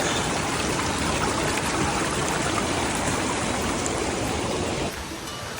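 A mountain stream rushes and splashes steadily at close range on a cool morning along the Pemi Loop in the White Mountains, where hikers collect water to drink. The broadband rushing is loud and continuous, easing slightly in level near the end.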